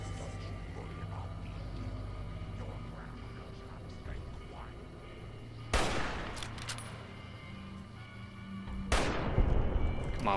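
Gunshots ring out in the post-apocalyptic video game Fallout: New Vegas, two sharp loud shots a few seconds apart over a steady game ambience with low background hum.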